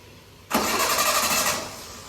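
A motorcycle left unused for six months fires up on its electric self-starter, catching at once into a loud, steady close-up engine roar that eases slightly toward idle after about a second.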